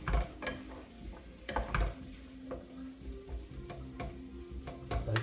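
Food fries in a pan in a home kitchen, giving a steady sizzle and gentle bubbling. Stirring and the clatter of a utensil or lid against the pan sound close by, and no one speaks.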